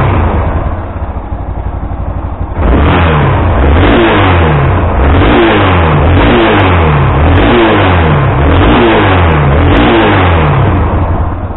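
A warm 1992 Yamaha XTZ 660 Ténéré motorcycle engine idles briefly, then revs up loudly and close, climbing through several rising and falling rev surges in a steady rhythm with no voices.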